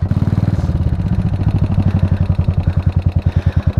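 A Buell motorcycle engine runs nearby with a loud, steady, lumpy V-twin pulse. The firing beats are even and rapid, with a slight rise in pace partway through, and no talk over it.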